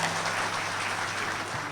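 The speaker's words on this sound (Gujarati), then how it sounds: "એટલી તાળીઓ પડવી જોઈએ મિત્રો" An indoor audience at a photographers' association annual general meeting on a farm claps steadily, a dense, continuous wash of applause from a full crowd.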